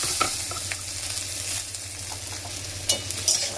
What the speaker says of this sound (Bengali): এগুলোকে একটু হালকা করে ভেজে দেবো